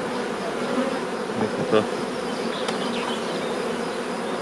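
Dense, steady hum of honeybees swarming around an open hive during a spring colony inspection, continuous and close with no speech.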